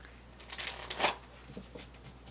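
A few quick riffling bursts of tarot cards being shuffled by hand, crisp and close, with brief pauses between.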